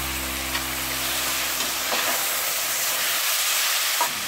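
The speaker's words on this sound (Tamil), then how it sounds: "இஞ்சி பூண்டு நல்லா 2 நிமிஷத்துக்கு நல்லா வதங்கட்டும்" Ginger and garlic sauté in a pan for a Tamil-style rajma masala, giving a steady close sizzling hiss with a faint low hum underneath and a few soft stirring scrapes.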